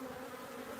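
Honeybees at an open hive hum in a steady, tonal drone, a faint but continuous swarm buzz with no voices over it.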